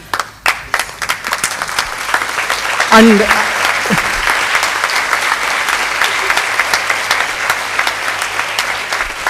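Standing graduates clap for their parents at the PSG Allied Health Sciences graduation ceremony in 2023, with a few sharp early claps swelling into sustained hall applause while a voice speaks over it briefly.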